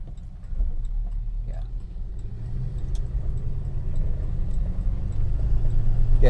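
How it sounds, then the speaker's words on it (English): A Rover P5B engine idles at a traffic light, giving a low, steady, even rumble close by that builds slightly toward the end, with a voice talking over it. "it seems to be idling much nicer now"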